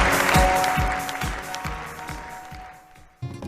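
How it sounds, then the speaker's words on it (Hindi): Audience applause on a Pakistani quiz show, a steady burst of clapping that fades over a few seconds, with a voice briefly heard over it. "दोस्तों की भरपूर तालियां"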